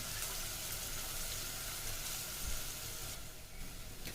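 Onion frying in a pan over a medium flame, giving a steady broadband sizzle with a soft crackle that holds evenly throughout and has no voices over it.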